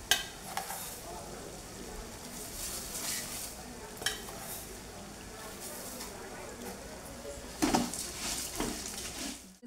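Grated coconut roasting and being stirred in a pan for a large batch of aluvadi, a soft steady frying hiss with occasional scrape and clatter of the spoon against the pan, a voice faintly audible at times.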